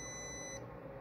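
A multimeter in diode mode gives a single short, steady beep during an electronics repair continuity check. It is faint and lasts about half a second, then cuts off.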